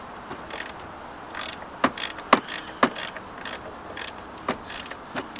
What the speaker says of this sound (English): then you go with the 10 millimeter socket and a ratchet